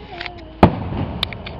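Fourth of July fireworks seen from a home patio: one loud, sharp blast rings out, followed about half a second later by a fainter pop over a quiet outdoor background.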